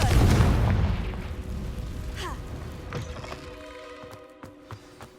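A Confringo fire spell cast in the Hogwarts Legacy video game bursts as a loud, booming explosion at the start, then rumbles and fades into crackling debris and faint ringing tones.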